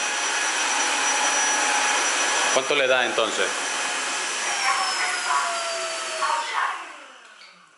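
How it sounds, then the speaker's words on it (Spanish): A Tineco S3 vacuum cleaner roars steadily at close range, a high whining drone that drops off near the end, with a brief voice speaking over it. "ya habéis visto el ruido que hace, que más o menos es el mismo ruido que cualquier aspiradora"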